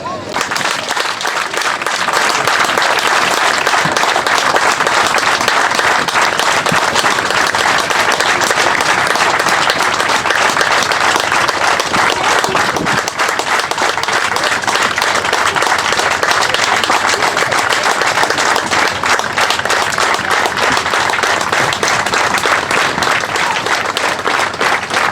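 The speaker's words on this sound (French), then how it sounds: "on va devoir applaudir" Crowd at a water-jousting tournament applauding loudly and continuously for about 25 seconds, a dense unbroken roar of clapping with voices mixed in throughout.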